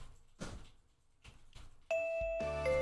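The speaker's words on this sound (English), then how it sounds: "The school bell rings." A bell rings in the visual novel 2x2 Love, a single chime-like tone that starts partway through and rings on steadily to the end, loud and clear after quieter background sounds.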